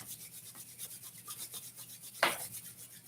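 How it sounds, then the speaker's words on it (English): Palms rub together in a steady, soft rhythmic swish during a summer qigong session, close and quiet, with one brief sharper scrape partway through. "Start by rubbing our palms together, making some heat in our hands."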